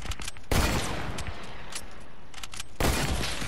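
Two loud gunfire bursts from a shooter video game, about two seconds apart, each followed by a rumbling decay. Quieter shots and clatter fill the gap between them.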